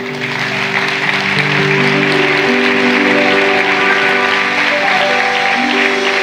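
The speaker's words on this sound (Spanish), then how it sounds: "dele un aplauso, Señor" A church congregation breaks into loud, sustained applause that fills the room evenly, with music playing steadily beneath the clapping.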